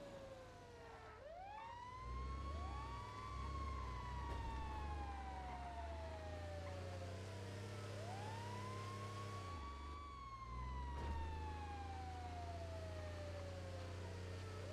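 An ambulance siren in the video game GTA V wails loud and close, rising and falling in long sweeps that cycle repeatedly over a steady low engine rumble.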